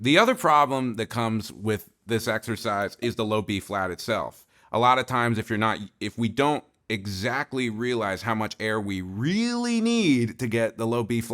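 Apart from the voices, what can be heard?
No everyday noise stands out behind the speech.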